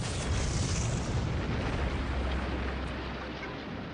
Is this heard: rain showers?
no